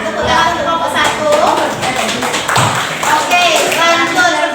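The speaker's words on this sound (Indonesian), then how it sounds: "Tepuk tangan untuk kelompok 1." Primary school pupils in a classroom clapping in applause for a group, a dense, loud patter of hands that continues throughout with voices mixed in.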